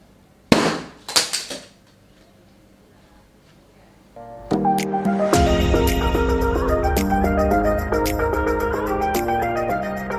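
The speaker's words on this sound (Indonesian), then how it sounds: "sekarang kita akan meletuskan balon" A hanging balloon weighted with two batteries pops in a home physics experiment: a sharp loud bang followed by a few quick cracks, then quiet before music starts.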